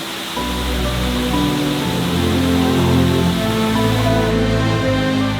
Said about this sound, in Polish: wskoczyliśmy pod ogromny, spadający z wysokości wodospad, czując jego niesamowitą moc